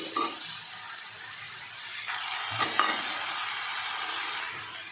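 Ingredients for piradai dosai sauté in a pan with a light steady sizzle as a spoon stirs and scrapes, a couple of louder clinks near the middle, no voices.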